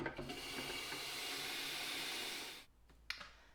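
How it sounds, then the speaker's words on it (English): Hot water pours steadily into a Pinter beer keg, a continuous rushing fill that runs loud for a couple of seconds, then cuts off, followed by a brief clunk and faint trickle. "I'm going to fill her up to the fill line with hot water"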